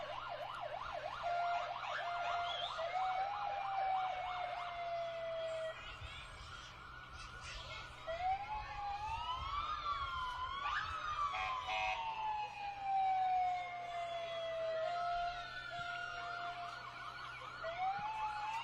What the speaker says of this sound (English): right after you see the fire engine and the EMT vehicle come through